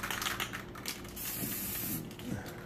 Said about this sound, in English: you want to go ahead and spray it on threads, anything that rusts